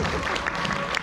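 A seated audience at a product seminar in a resort hall gives a short burst of applause, a dense, moderately distant patter of many hands.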